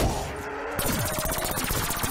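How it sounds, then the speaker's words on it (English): A weapon is emptied in rapid, continuous fire during a Black Ops 3 zombies match, shots blending into a dense, loud rattle that barely pauses over the whole stretch. "I empty my weapon"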